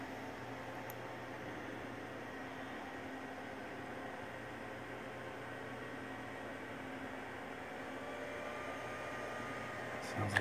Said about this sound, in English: I hear fans coming up again.